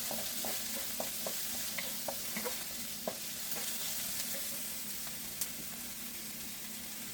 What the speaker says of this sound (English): And just saute that until it's half cooked.